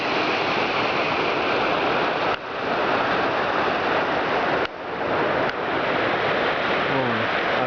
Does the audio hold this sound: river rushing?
yes